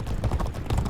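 Racehorse hooves gallop in G1 Jockey 4, a 2008 horse racing game, with a steady, loud, rapid drumming of clip-clop beats filling the whole second.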